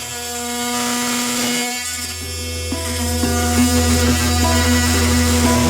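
Hilti cordless multi-tool cutting into New Zealand native timber, a steady buzzing drone with a strong hum and rising grind as the blade bites, continuous and close with no talking.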